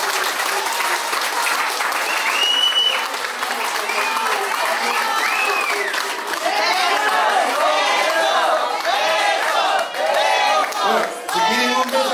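Wedding guests at a Cholita wedding party applaud the couple, a dense, steady wash of clapping that runs the whole stretch, with shouting and chatter rising through it toward the end.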